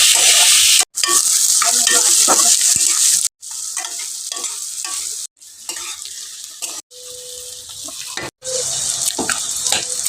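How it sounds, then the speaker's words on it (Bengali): Onions fry in a pan with salt and turmeric, a loud close sizzle broken by scraping stirs and several abrupt cuts into quieter stretches of frying. "নুন হলুদের সাথে পেঁয়াজটাকে ভেজে নেব।"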